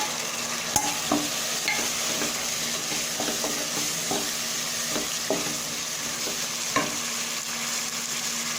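Chicken pieces sautéing for a green coriander and mint kurma, a continuous close sizzle with a spoon stirring and knocking against the pan at irregular intervals.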